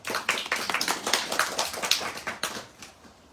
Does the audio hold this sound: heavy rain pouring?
no